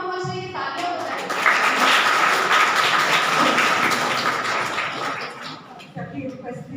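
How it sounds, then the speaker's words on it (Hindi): An audience at a university Youth Day gathering claps steadily as someone walks up to speak; brief talk comes before and after the dense, sustained applause. "चलिए तो मैम जब तक यहाँ पहुँच रही है तालियां बजाएं।"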